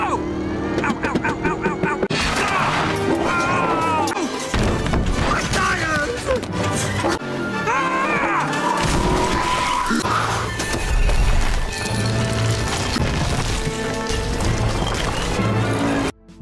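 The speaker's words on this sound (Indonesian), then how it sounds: "Aksi kejar-kejaran pun dengan mobil sheriff membuat kekacauan di sekitar Radiator Spring." In an animated chase from the film Cars, a race car and a sheriff's car tear through the desert town of Radiator Springs on Route 66 with engine roars, tyre skids and crashing thuds, all mixed with dense music and character voices throughout.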